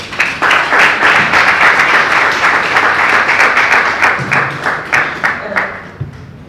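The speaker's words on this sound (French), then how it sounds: "Est-ce qu'on peut l'applaudir?" An audience at a Congolese book launch applauds a child, close, lively clapping with some distinct individual claps that taper off near the end.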